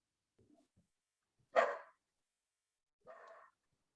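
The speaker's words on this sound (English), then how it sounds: "I have the dogs barking" A dog barks twice against a quiet room, one sharp bark followed by a softer, shorter one about a second and a half later, with faint rustling before the first.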